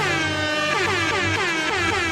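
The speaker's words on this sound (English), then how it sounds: "what if Ryan had to replace the blaster effects with air horns?" A loud, blaring air horn sound effect stands in for blaster fire, its brassy tones wavering and slurring in rapid pulses across two seconds, heard alone.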